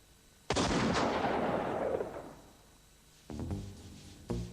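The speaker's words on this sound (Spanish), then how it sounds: "Al apretar el gatillo, el arma dispara." A Colt revolver with grease on the front of its cylinder chambers fires a single, very loud shot that rings out in a long decaying roar, followed later by a few fainter mechanical knocks.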